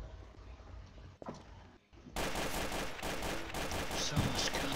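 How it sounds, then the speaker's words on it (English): Rapid bursts of gunfire in the video game Garry's Mod erupt after a quieter stretch, dense and loud, with a brief pause before sustained shooting continues. "So much gunfire."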